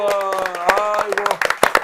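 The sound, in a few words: audience clapping together once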